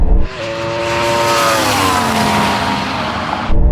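Ferrari SF90 supercar and Yamaha R1M superbike drag racing side by side, a loud engine howl climbing steadily in pitch under hard acceleration, close by and alone, with a brief tire squeal at the start.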